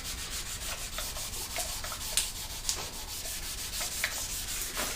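Sandpaper on a flat pad rubbing across a painted panel, brisk repeated scraping strokes up close with a few sharper scuffs, no speech.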